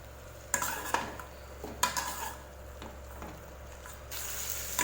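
Mutton pieces tossed with masala in a pan for mutton fry, giving several scraping spatula strokes against the metal over a low sizzle, each stroke a short rasp at a moderate, uneven pace.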